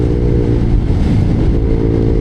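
A motorcycle rides along on a road trip in Calatagan, Batangas, its engine droning steadily and loudly up close, blended with rushing wind and no clear pauses.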